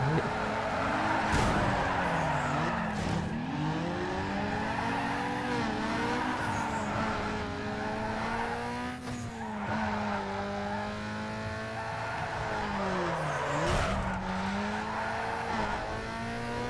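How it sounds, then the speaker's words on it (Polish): Car drifting and sliding through corners in Need for Speed Underground 2, with a sustained engine drone and rising, falling tyre squeals that recur throughout at close, steady loudness. "Poślizg zrobiony, a to nie jest ten drift taki prawdziwy."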